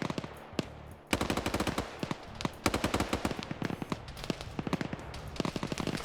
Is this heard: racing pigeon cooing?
no